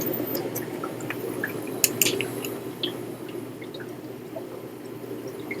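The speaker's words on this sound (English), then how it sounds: "Little water pump." A small USB-powered aquarium water pump runs with a low steady hum, accompanied by faint trickling and dripping water and a few scattered splashes.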